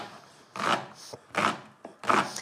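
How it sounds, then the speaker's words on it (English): A knife slices through leek on a cutting board in three quick, crisp chops with soft scraping between them, close and fairly quiet in a home kitchen. "Makes a lovely chopping noise, doesn't it?"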